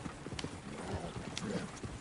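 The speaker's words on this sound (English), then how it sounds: "Oh, shit, the horses!" Quiet, steady clip-clop of horse hooves over a muffled outdoor background in the video game Red Dead Redemption 2, with a faint whinny mixed in and no voices.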